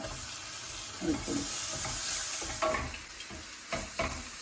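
Chopped ginger sizzles in hot oil in a pan for Kerala fish pickle, a steady close frying hiss broken by the scrape and clatter of a spoon stirring.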